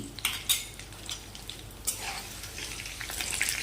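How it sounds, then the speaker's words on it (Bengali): Ghee with curry leaves sizzles in a small pan, a bright crackling hiss with sharp spitting pops near the start and a swelling fizz toward the end, close up and moderately quiet, nothing spoken. "এবার এর সাথে অ্যাড করব এক চামচ ঘি কারি পাতাটা যেন পুড়ে না যায়"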